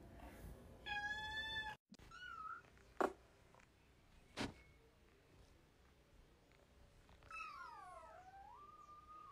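A house cat meows repeatedly while trying to get into a drawer, with rising and falling calls and a couple of sharp knocks or thumps between them, fairly close in a quiet room.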